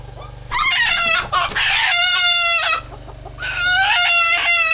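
Chickens squawk and cluck loudly and close by in agitated bursts, with a steady low hum in the background.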